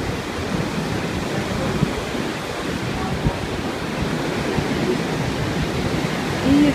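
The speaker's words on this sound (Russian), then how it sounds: "Красивый океан." Ocean waves wash steadily onto a beach in Hikkaduwa, Sri Lanka, a continuous broad surf roar with slight wind noise and no distinct individual breakers, close and moderately loud throughout.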